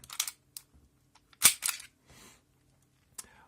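A sharp snapping pop of an Umarex Smith & Wesson M&P 9L airsoft pistol shot, set among lighter mechanical clicks and rattles, with quiet pauses between the sounds.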